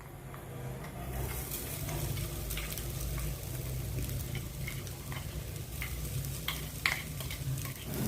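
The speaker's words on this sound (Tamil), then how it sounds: "இப்போ நம்ம அரைச்சி வச்சுருந்த தேங்காய் வந்து சேர்த்துக்கலாம்." Ground coconut dry-roasting in a kadai makes a soft, continuous scraping and stirring sound with a light sizzle, close and quiet, and no voices.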